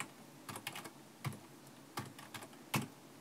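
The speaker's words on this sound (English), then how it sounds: "you can type it in manually, as I'm doing right now" Quiet, close typing on a computer keyboard: short bursts of clicking keystrokes separated by brief pauses, over a low room hum.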